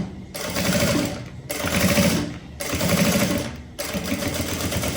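A sewing machine stitching a handled pencil case runs in four loud, close bursts of rapid mechanical chatter, each about a second long, separated by brief pauses, with no talking.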